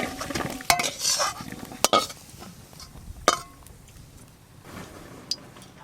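Fried potatoes and elephant foot yam are poured out and stirred in a pan. Several sharp clinks and scrapes of utensil on metal break through a soft background sizzle.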